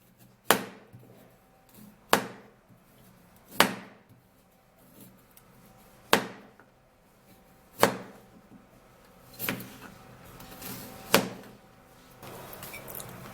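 A knife chops through carrots on a cutting board in sharp, separate strokes, about eight evenly spaced cuts roughly a second and a half apart, close and clear in a quiet room.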